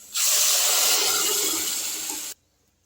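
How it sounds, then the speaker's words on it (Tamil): Water is poured into a pot of simmering kuzhambu curry as a single steady gush of splashing and hissing that lasts about two seconds and then stops suddenly. "இப்போ இந்த குழம்புக்கு தேவையான அளவு தண்ணி சேர்த்துக்கலாம்"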